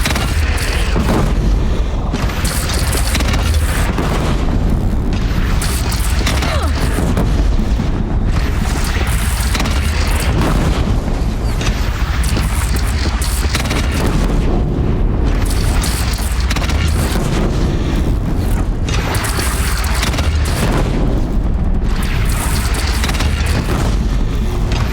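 A single cannon booms and explodes in battle inside the video game Horizon Zero Dawn, a dense, loud, continuous roar of blasts and rumbling debris with no clear gaps.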